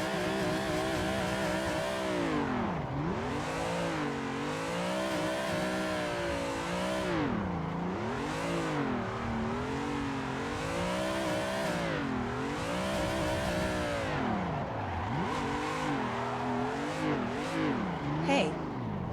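A car engine in the video game Assetto Corsa revs up and down repeatedly while drifting, its pitch swooping in rising and falling arcs under constant throttle changes, with tyre noise and a brief voice near the end.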